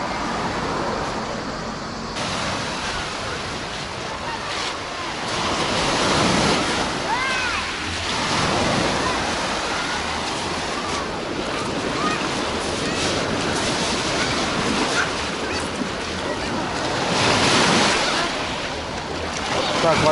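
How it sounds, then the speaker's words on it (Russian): Black Sea surf at Alushta, Crimea, rolls steadily onto the beach, a continuous broad wash of breaking waves with some wind buffeting the microphone. "волны, конечно, присутствуют"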